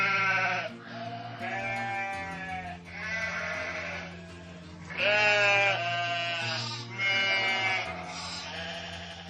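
Several sheep bleat one after another in long, wavering cries, close and loud over a steady low drone.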